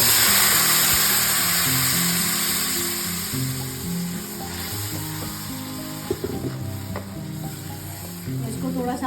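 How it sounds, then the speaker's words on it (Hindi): Ground tomatoes hit hot oil with browned garlic, sizzling loudly and steadily up close, with occasional stirring scrapes and a low hum in the background; no talking. "लहसुन हो गया हमारा ब्राउन, तो अब मैं इसमें डालूंगी ये टमाटर जो मैंने ग्राइंड करके रखे थे।"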